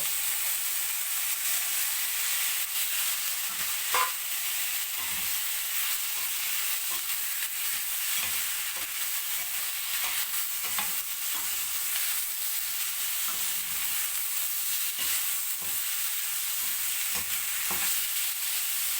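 Pork belly (liempo) sizzles and spatters steadily in a hot pan, a bright continuous frying hiss with occasional pops and faint stirring, close and alone, with no talking.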